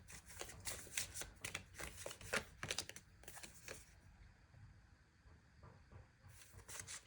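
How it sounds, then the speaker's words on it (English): A deck of Archangel Oracle cards is shuffled by hand close up, with quiet, rapid riffling and rustling for about four seconds before it eases into softer handling, and no one speaks. "I'm going to shuffle for one more oracle card"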